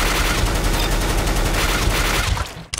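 A rifle sprays full-auto in Counter-Strike: Global Offensive, a dense, loud, continuous burst of rapid shots that cuts off abruptly near the end.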